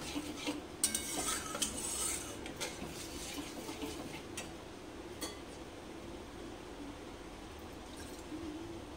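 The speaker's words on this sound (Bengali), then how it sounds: "টক দইটা দিয়েও আবারও একটু কিছুক্ষণ কষে নিতে হবে" Sour yogurt is stirred into a hilsa fish curry in a pan: a soft, steady sizzle sits under scraping strokes of a spoon and a few light metal clinks, close by with no talking.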